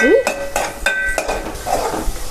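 Ginger garlic paste frying in hot oil for Andhra fish curry, with repeated clinks and scrapes of a spoon stirring in the pan over a steady sizzle; one brief rising tone at the start, no talk.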